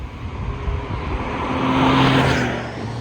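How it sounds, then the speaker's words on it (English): A Porsche slant nose Targa drones steadily while driving, its engine swelling briefly as it revs, heard close with continuous road and wind noise. "I like to listen to the car."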